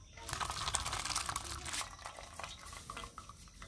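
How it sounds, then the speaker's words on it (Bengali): Water draining off boiled, fully softened lentils for egg tadka dal: a steady splashing pour, fuller in the first half and thinning to light trickles and drips toward the end. No talk. "এবার আমি ডালটার জলটা আলাদা করে নেব।"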